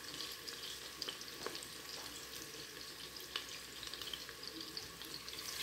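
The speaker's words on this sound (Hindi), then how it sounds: "अभी इसको हिलाती हूँ, ये ज़रा ब्राउन हो जाए।" Garam masala, cumin and red chili frying in hot oil while being stirred, making a steady close sizzle with occasional light scrapes of the spoon and no voices.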